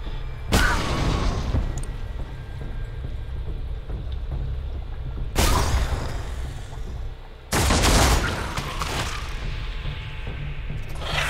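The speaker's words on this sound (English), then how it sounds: "Grenade." Grenade explosions in Warhammer 40K Deathwatch, three loud sharp blasts with rumbling decay spaced several seconds apart over steady battle ambience.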